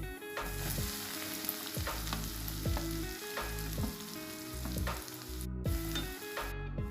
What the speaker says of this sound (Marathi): आधी तेलामध्ये टाकायचे थोडेसे जिरे आणि पुन्हा टाकायचं खोबरं आणि लसूणचं वाटण.